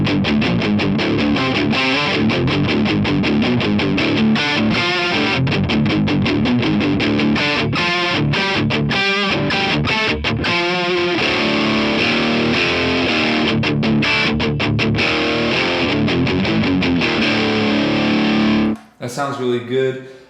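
An electric guitar runs through Mosferatu and Greer Lightspeed overdrive pedals, playing crunchy distorted chords and riffs with a steady rhythm, loud and close, ending in a brief pause and a final few notes.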